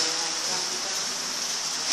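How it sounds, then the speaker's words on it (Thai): Rain falling, a steady, even hiss of drops that continues unbroken and fairly loud for the whole short stretch. "ตอนนี้ฝนมันตกนะ"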